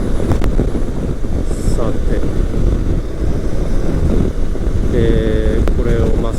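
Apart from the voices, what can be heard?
wind noise and Honda CB500X motorcycle engine mechanical noise while riding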